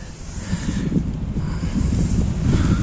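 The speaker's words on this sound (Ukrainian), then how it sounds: "Спочатку не було такого вітру, як зараз." Strong wind blowing outdoors in a birch forest during birch sap collection, buffeting the microphone with a loud, gusty low roar that rises and falls continuously.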